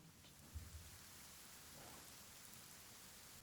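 Soft, steady rainfall in a forest with a diffuse patter, quiet and continuous, with a couple of faint low thuds early on.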